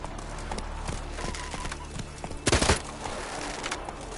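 Roach the horse gallops in The Witcher 3 with a rapid, rhythmic clip-clop of hooves over a low ambient hum, broken by a louder burst of rustling impact partway through.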